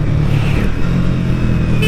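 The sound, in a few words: Triumph Speed T4 motorcycle exhaust note after downshift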